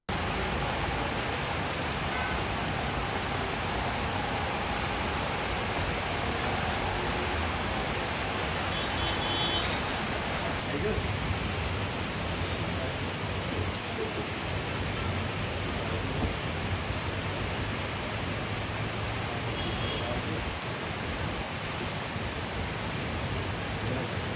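Heavy torrential rain pours down in Ahmedabad, a dense, continuous hiss and roar that stays steady throughout with no voices.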